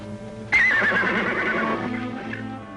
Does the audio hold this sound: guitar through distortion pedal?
no